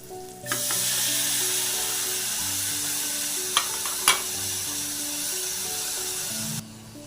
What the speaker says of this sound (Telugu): ఇలా 2 నిమిషాలు వేయించాలి. ఇప్పుడు ఇందులో చుక్కకూర వేసి మగ్గనివ్వాలి.